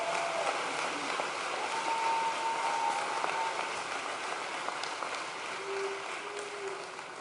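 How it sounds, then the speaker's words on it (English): Graduation ceremony audience applauding, a steady, moderately distant wash of clapping that holds for several seconds and slowly thins, with no talk over it. "Let's please have a warm round of applause for all of the folks who have made today's celebration possible."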